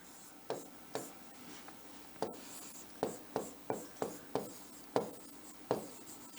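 Strokes on a board come in a steady series of short, crisp scratches, roughly one every half second, close and clear with no talking.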